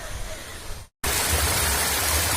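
Waterfall at Kolli Hills, a steady loud broadband roar of falling water, cut by a brief dropout near the middle before resuming just as strong and close.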